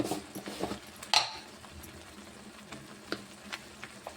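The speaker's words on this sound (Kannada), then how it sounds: "ಇವಾಗ ಇದನ್ನು ಚೆಂದಾಗಿ ಮಿಕ್ಸ್ ಮಾಡೋಣ ರೀ" A spoon stirs green pea kurma with chili powder and turmeric in a pan over a low, steady sizzle. Intermittent taps and scrapes of the utensil against the pan include one sharper clank.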